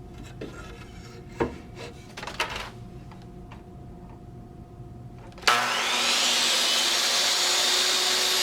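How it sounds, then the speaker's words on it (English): Power driver sinks galvanized screws into wooden 2x2 wall-panel framing for an elevated box blind. Faint rubbing and handling sounds come first, then a loud continuous whir starts abruptly and holds steady to the end. "fasten the parts with galvanized screws"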